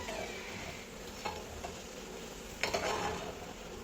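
Pickle ingredients fry in hot oil, giving a soft, steady sizzle with a few light clinks and stirring scrapes of a utensil in the pan. No voices are heard.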